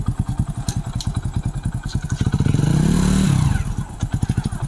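Motorcycle engine thumping in rapid, even pulses near the microphone as the bike pulls away in second gear, with a brief rev swelling in the middle before the steady chugging returns.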